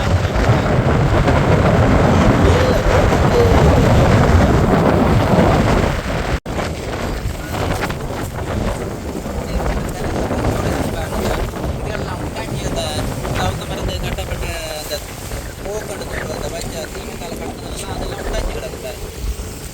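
Rough, storm-tossed sea at the Kolumbuthurai coast in Jaffna, with boats being battered. A continuous loud roar of wind and surging waves fills the whole stretch, with a brief dropout partway through and speech mixed in.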